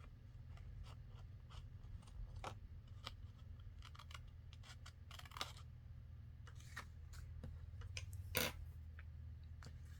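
Paper is trimmed while making an envelope-style journal, with quiet scissor snips and small paper rustles and taps scattered over a low steady hum, faint and close.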